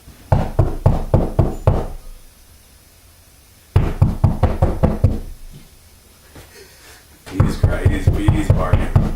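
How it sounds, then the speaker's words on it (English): Rapid bursts of knocking on a wall, three sharp runs of hard, evenly spaced raps separated by quiet pauses, close and loud. "why are you knocking on the wall, stupid?"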